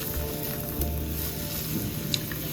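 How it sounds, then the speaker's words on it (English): Onions and meat stir-fry in a pan for spicy pork chop fried rice, a soft steady sizzle under a low hum with occasional faint spatters. "we're going to start with the stir frying"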